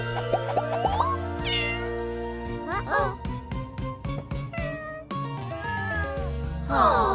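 A cartoon cat meows repeatedly in a playful children's pretend-play story, with rising and falling cries scattered over bouncy background music and small plopping effects.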